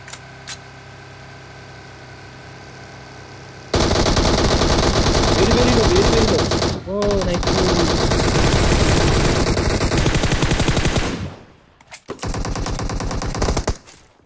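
Sustained automatic gunfire bursts loud and close in PUBG Mobile, a rapid continuous rattle that breaks off briefly and resumes, while players talk over it.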